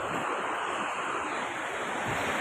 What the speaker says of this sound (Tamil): ஏன்னா வந்து அலைகள் அதிகமாக இருக்குது குளிக்க முடியாது